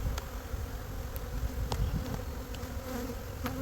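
Honeybees buzz around the frames of a nuc box being set up, a low, continuous hum of many insects up close with occasional faint clicks and knocks.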